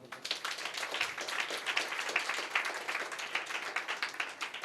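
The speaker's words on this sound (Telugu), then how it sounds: "నమ్మితే చప్పట్లు కొట్టండి" A church congregation claps together, a dense, steady patter of many hands that keeps going without a break at moderate loudness, with no voices over it.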